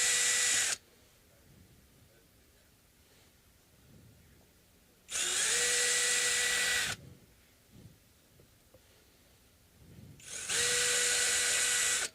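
Power drill backing screws out of a Fender Jazz Bass during a cleaning and restoration, three loud whirring bursts separated by quiet pauses with faint handling noises between them.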